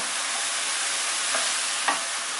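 Mushrooms and leek fry in a pan over high-medium heat, a steady close hiss of sizzling with a couple of soft stirring scrapes, no voices.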